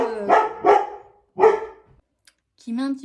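A dog barks indoors, loud and close: a quick double bark, a pause, then another sharp bark, followed by a short whine or yelp after a moment of silence.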